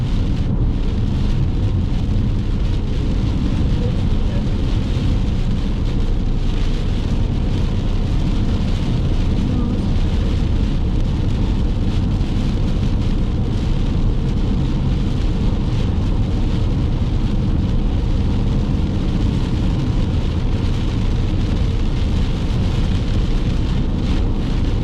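Steady, heavy rain pours during a July thunderstorm chase in Quebec, a dense hiss that never lets up, with low thunder rumbling underneath and the hum of the chase car.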